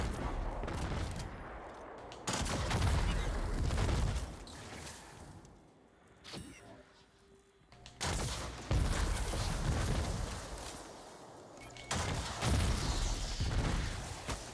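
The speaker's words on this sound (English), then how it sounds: "Love the cluster bomb effect." Rapid clusters of small explosions from a cluster bomb in the Destiny 2 shooter, bursts of loud crackling blasts arriving in waves with brief quieter gaps between them.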